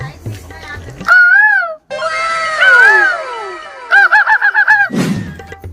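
A person imitates a koel bird call with rising whistled notes, then a quick series of repeated hoots, loud and close.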